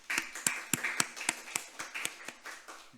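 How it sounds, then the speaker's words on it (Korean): A church congregation claps during a Sunday morning worship service, a series of sharp hand claps in a loose, uneven rhythm, fairly close and moderately loud with no talk over it. "영광의 박수 올려드리도록 하겠습니다"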